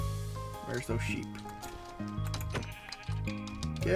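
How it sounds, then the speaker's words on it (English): Blocky sheep in the Minecraft video game bleat in a run of wavering, nasal calls, loud and close, repeating with short gaps over several seconds. "Where's those sheep?"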